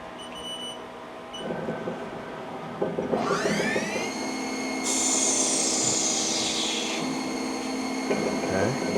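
A metal part for an air gun Luer connection being parted off on a lathe: a motor hum under a rising, whining cutting tone that climbs and then holds as a shrill, steady squeal, close and fairly loud.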